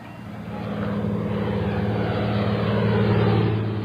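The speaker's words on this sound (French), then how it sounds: "Le vrombissement des Lancaster au-dessus de la baie de la Moselle" Lancaster bomber engines droning over the Moselle bay in New Caledonia, a loud continuous low propeller rumble that swells gradually and holds steady.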